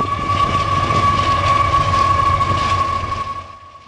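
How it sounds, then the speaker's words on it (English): A long intermodal freight train and a CP potash train roll past on the Canadian prairie near the Saskatchewan-Alberta border, a loud, steady rumble of wheels and cars with a sustained high tone that fades away near the end. "we were welcomed well by an intermodal train and a CP potash train."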